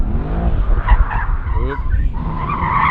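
A Mercedes-AMG E63 S or C63 S drifts at an AMG drift school, tires squealing in wavering bursts over a low engine rumble while people talk over it.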